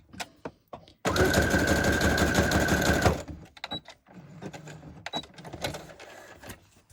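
A sewing machine runs a zigzag stitch across a junk journal page in one loud, steady two-second burst of rapid mechanical chatter, surrounded by quieter handling clicks before and after.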